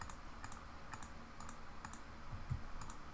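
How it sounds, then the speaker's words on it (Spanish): Control-key presses and mouse clicks in a code editor, a run of crisp close clicks and key taps at an irregular pace, fairly quiet, with no talking. "Esto lo hago con control clic desde el editor."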